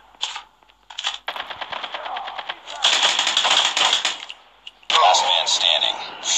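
Rapid automatic gunfire from the Call of Duty Mobile video game, with bursts of close, rattling shots broken by brief pauses and a loud final volley.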